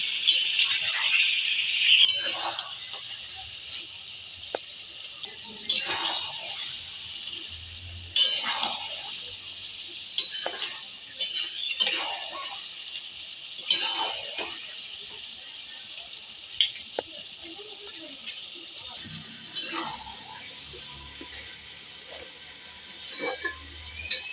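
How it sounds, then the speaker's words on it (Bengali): Mutton is stirred and sautéed in a pan with a little water added, giving a steady bright sizzle with repeated clinks and scrapes of a spoon against metal. Someone talks quietly over it throughout. "দিয়ে দেবো একটু জল, এখন ভালো করে কষে নেব"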